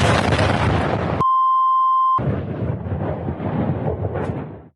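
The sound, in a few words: explosion destroying an ammunition depot in Donetsk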